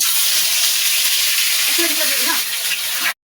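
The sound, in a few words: chicken leg pieces frying in oil for biryani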